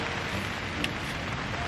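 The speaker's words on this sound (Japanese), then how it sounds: "なんかさ、今日風も強いし雨もすごいんだけど、" Heavy rain pours steadily onto a tent pitched in a storm with strong wind, a dense, even hiss filling the space without a break and with no voices.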